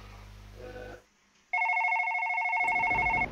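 A telephone rings in a dark, tense room, its electronic double-tone ring sounding loud and steady in sustained bursts after a brief hush, following a moment of low rumbling noise.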